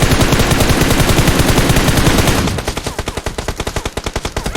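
Loud, rapid automatic gunfire in PUBG Mobile rattles on without a break, a fast steady stream of shots that drops slightly in level partway through but keeps its quick rhythm.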